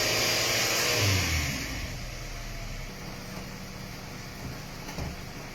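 A Mazda3 engine idles steadily with a low hum and a brief rev near the start, the air conditioning running as a constant airy whir underneath after an AC unit replacement.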